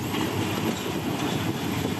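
A steam train pulling into a station in Thailand rumbles steadily with a dense low roar and faint clatter of wheels on rails, continuous and fairly close, no voices.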